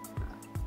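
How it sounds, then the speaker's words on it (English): Grapeseed oil poured into a chicken marinade, heard as two brief, close liquid glugs less than a second apart. "now I'm going to pour in my grapeseed oil"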